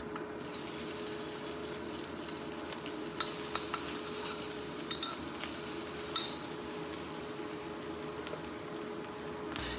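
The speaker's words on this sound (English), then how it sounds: "So then add 1 tablespoon or so of oil, followed right away by the Chinese sausage." Chinese sausage sizzles in a tablespoon of oil in a smoking-hot wok, a steady, even crackle of frying throughout with occasional faint clicks of stirring.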